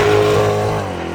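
A 2024 Chevrolet Corvette E-Ray's 6.2-liter engine hums loudly and steadily under load, a deep harmonic drone that eases off slightly near the end.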